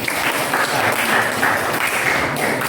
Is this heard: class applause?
yes